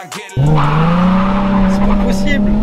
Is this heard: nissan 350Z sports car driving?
yes